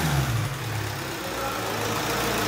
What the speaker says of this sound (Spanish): Vamos a acelerar nuestro vehículo, aceléralo por favor.